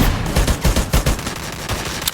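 Rapid gunfire in the shooter game Free Fire, dense overlapping bursts of automatic fire crackling continuously and loudly for a couple of seconds with no talking.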